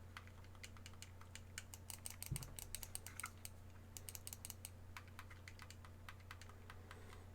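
Crisp, rapid clicks from the buttons of a Razer Kishi V1 mobile gaming controller, pressed in irregular quick bursts close up over a steady low electrical hum, with no voices.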